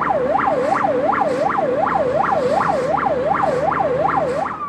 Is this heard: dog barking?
no